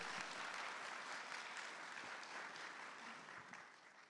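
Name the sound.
applause after a stage performance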